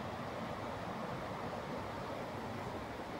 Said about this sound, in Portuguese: Cachoeira no fundo de casa.